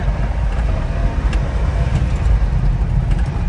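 Honda ACTY mini truck engine running while the little truck drives along a bouncy dirt road in low gear, a steady, close, mid-pitched rumble with no break throughout.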